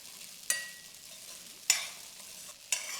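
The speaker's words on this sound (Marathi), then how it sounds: "भिजवलेला साबुदाणा आता गॅस कमी करूयात आणि याला एक दोन ते तीन मिनिटांसाठी तुपामध्ये परतून घेऊ" Soft, low sizzling of soaked sago pearls frying in ghee over low heat, punctuated by three sharp scraping stirs spaced about a second apart.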